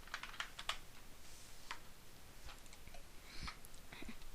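Quiet, scattered key clicks on a computer keyboard, light irregular taps picked up from a distance over a faint steady background hiss, without any voices.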